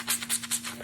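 Wet curly hair saturated with water and styling product being squished by hand, making four or five close, rhythmic squelching crackles with a steady faint hum underneath.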